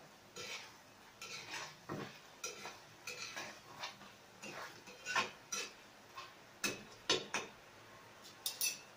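A spoon scrapes and clinks against a pot while chicken adobo is stirred, with irregular metallic taps and knocks over a faint simmering sizzle, close and fairly quiet.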